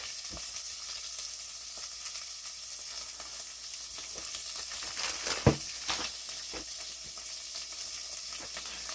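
Beef for teriyaki bacon sriracha wraps cooks on a Grill Boss 90057 dual-fuel griddle, giving a faint, even sizzle and hiss with a few scattered pops and one sharper knock partway through.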